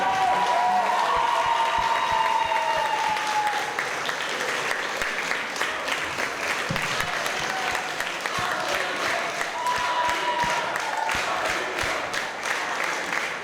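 An audience at a praise concert applauds Sister Alina in a long, even stretch of dense clapping. A few faint tonal traces sit beneath the clapping, which holds at a steady level throughout.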